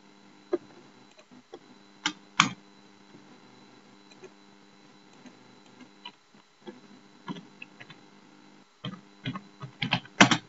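Computer keyboard typing while entering figure index text in Microsoft Word, with irregular bursts of keystrokes and louder clicks, close and fairly quiet, no talking.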